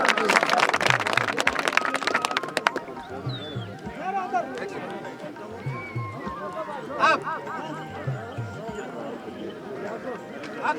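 A crowd claps loudly for about three seconds for a prize winner at a horse riding competition in Ghodyan, Gundna, then the applause fades as someone speaks over background chatter.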